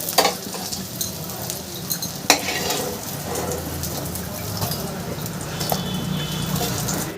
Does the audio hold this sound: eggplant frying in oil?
yes